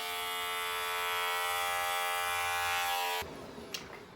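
An electric shaver buzzes steadily up close as it trims the pile of a tufted rug, holding a loud even whine for about three seconds before cutting off, followed by faint handling noise.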